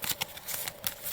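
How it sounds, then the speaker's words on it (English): Quick papery riffles of cards being shuffled, several short bursts in a row, close and fairly quiet, with no talking. "And I'll shuffle these and draw 2 more from that pile."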